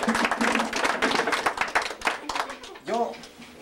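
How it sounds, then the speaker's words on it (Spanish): Guests at a baptism celebration clap for the godparents, a dense patter of hands mixed with chatter and voices, and a brief cheer rises near the end. "pido un aplauso para los padrinos."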